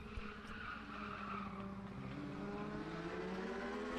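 Legends series race cars run qualifying laps at Madera Speedway, a steady distant engine drone with tire noise humming continuously at low level, no voices over it.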